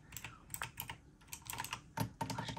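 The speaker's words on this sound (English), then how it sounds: "This is the keyboard that I recently did a video on." Rapid typing on a black Logitech keyboard at a desk, irregular soft clicks and key thocks close up and quiet.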